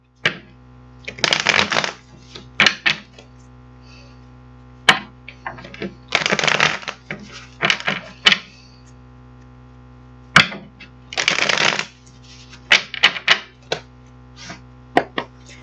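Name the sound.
shuffling tarot cards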